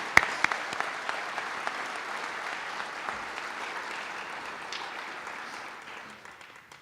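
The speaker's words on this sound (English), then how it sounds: "So give Shauna a big round of applause" Applause for a recipient at a police awards ceremony in Lakewood, a steady crowd clapping that holds for several seconds and slowly fades toward the end, with a few sharper claps standing out.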